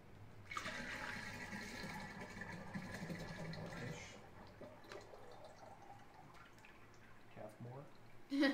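Liquid is poured off from a large batch of maple syrup mead (acerglyn) into another vessel: a steady, close splashing pour for about four seconds, then quieter drips and handling while people talk.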